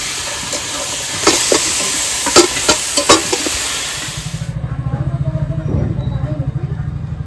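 Mutton dropped into a pan of fully fried spice masala for curry gives a loud, steady hissing sizzle with a few sharp stirring clatters, easing into a lower, bubbling fry after a few seconds.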